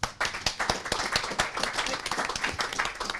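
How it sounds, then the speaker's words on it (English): A small audience at a science community talk claps for volunteers, distinct close hand claps starting sharply, then blending into a dense patter of applause that holds steady. "So if we could give our guinea pigs a round of applause"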